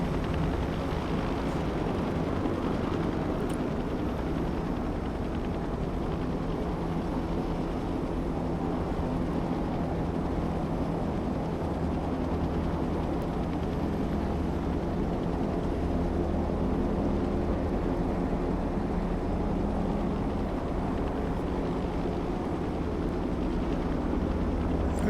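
An AH-1Z Viper attack helicopter in the video game Broken Arrow, a steady loud rotor and engine roar that holds constant, heavy rumble with no break.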